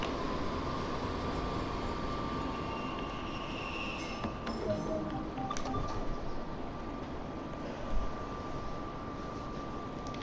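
A small model train hums and rattles along steadily at low volume, with a faint whine and occasional light clicks, no voices.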